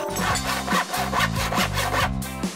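A hand saw rasps through wood in quick, even back-and-forth strokes, close and steady throughout.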